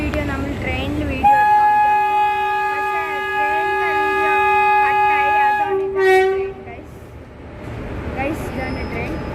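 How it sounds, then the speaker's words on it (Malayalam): A large train at a railway platform in Pattambi sounds a long, loud horn blast lasting several seconds over rumbling rail noise, with platform commotion and voices before and after. "ഇതാണ് ട്രെയിൻ, വലിയ ട്രെയിനാണ്"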